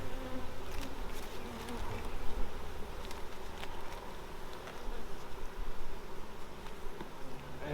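Honey bees buzz around an open flow super hive: a dense, steady, close swarm hum with no break and no talk.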